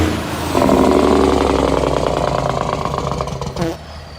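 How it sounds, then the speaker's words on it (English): A semi-truck's Jake brake, a compression release engine brake, rattles out as a loud rapid staccato of engine pulses lasting about three seconds. It cuts off abruptly near the end. "A Jake brake is essentially a compression release engine brake."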